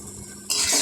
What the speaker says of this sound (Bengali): চাউমিনটা সমস্ত সবজির সাথে একসাথে মিশিয়ে খুব ভালোভাবে আমি নাড়াচাড়া করে খুব ভালো করে ভেজে নিলাম